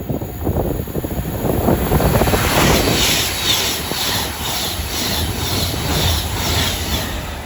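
An Avanti West Coast Class 390 Pendolino on a Manchester to London Euston service passes through Watford Junction on the West Coast Main Line, a loud, close rushing roar that swells and holds for several seconds.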